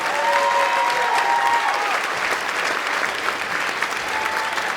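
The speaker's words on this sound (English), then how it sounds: "ladies and gentlemen, give another big round of applause," Concert audience applauding a junior band, a dense sustained round of clapping from a large crowd with a brief faint tonal sound early on.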